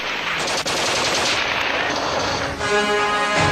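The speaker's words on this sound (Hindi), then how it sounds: "पाकिस्तानी सेना LOC पर गोलियां बरसा रही है" Gunfire at the Line of Control crackles in sustained rapid bursts like machine-gun and heavier weapon fire, loud and continuous with a dense, noisy roar throughout.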